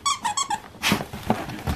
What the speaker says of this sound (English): But this one squeaks if you chew it no matter what.